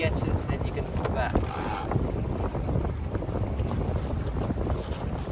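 A sailboat under sail in the wind: constant heavy wind roar buffets the microphone, with creaking rigging, a brief clatter of pulleys and flapping sail mixed in, close and continuous.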